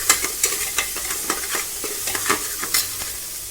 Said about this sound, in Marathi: थोडीशी पुदिन्याची पाने घालून छान भाजून घेणार आहे। अर्धा चमचा हळद, अर्धा चमचा गोडा मसाला